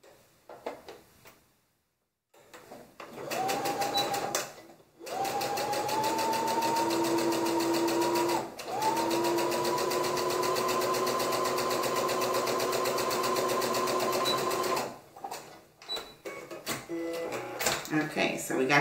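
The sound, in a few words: sewing machine stitching a 1/4 inch elastic casing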